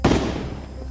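A single loud gunshot effect from an audio drama, with a sharp burst that decays quickly into a rumbling tail.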